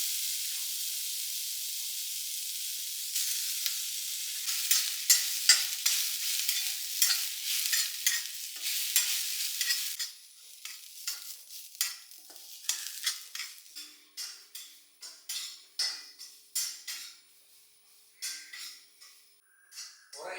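Ingredients for a roasted-and-ground chickpea curry are stirred and roasted in a pan, giving a steady soft sizzle that turns into repeated scraping, stirring strokes near the pan, with no talk.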